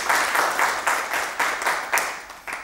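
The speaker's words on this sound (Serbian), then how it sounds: "I aplauz za negaciju." Applause for the opposing (negation) team at a school debate, heard as several short bursts of clapping in a rhythmic pulse, each swelling and fading before the next, moderately loud with no talk.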